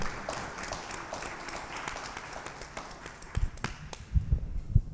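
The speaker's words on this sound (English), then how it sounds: "Please, a round of applause." A round of applause from a live audience at a small venue event, steady clapping at moderate level with a few louder claps and thumps near the end.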